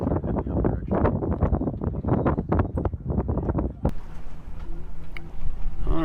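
Wind buffeting the microphone aboard the sailboat Southern Cross in a roughly 10-knot breeze, loud rumbling gusts that continue steadily under a voice in the first part.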